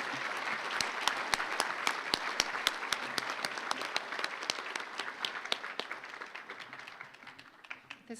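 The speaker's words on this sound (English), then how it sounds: "Let's give him another round of applause." A breakfast event audience claps in sustained applause, dense and fairly distant, with sharper individual claps standing out early before the sound gradually thins and tapers off near the end.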